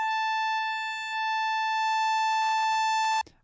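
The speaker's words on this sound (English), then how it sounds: "So here's our sound. It's a glorious sine wave." A pure sine wave synth tone from the Sytrus synthesizer holds steady and loud for about three seconds before cutting off abruptly. Faint clicks and ticks sound underneath it.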